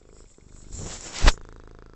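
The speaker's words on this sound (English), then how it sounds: "God, you're purring." A pet cat purrs close to the microphone, a soft rumbling drone that swells and peaks briefly near the end, with no talking over it.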